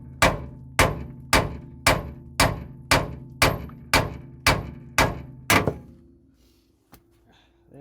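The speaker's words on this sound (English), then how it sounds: "I'm just going to hit that with a hammer" Hammer striking a VW T3 steering knuckle ball joint to pop it free, ten sharp evenly spaced metallic blows about two-thirds of a second apart, close and loud, then stillness.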